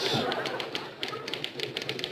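Typewriter keys clattering in a TV sitcom office newsroom, a run of irregular sharp taps and a few heavier strikes, fairly close, with faint voices or room murmur underneath.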